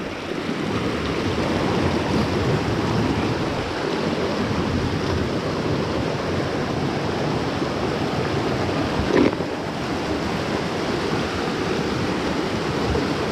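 A forest stream near George on South Africa's south coast, running full after 32 mm of rain, gives a steady, dense rush of flowing water that holds even throughout, with no voices.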